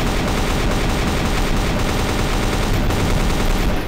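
A gold AK-47 in Counter-Strike: Source fires without a break, a dense and very loud burst of automatic gunfire that keeps the same level throughout.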